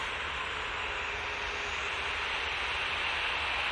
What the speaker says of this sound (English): And we've got Jet2, A321 CEO coming on in front of us,